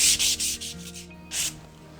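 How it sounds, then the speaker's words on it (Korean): Sandpaper rubs back and forth over a wooden tray in several quick, rhythmic strokes, close and fairly loud, then a short pause and one more stroke. "같은 방법으로 네 가지 다 샌딩을 해주시면 됩니다"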